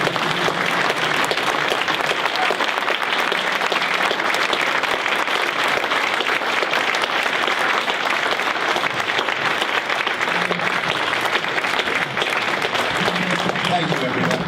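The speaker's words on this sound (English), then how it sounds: "if everybody could stand with me and give a warm round of applause and welcome to Mr." A standing banquet audience gives sustained applause at an awards dinner to welcome a guest speaker, a thick continuous wash of many hands that stays loud and steady throughout.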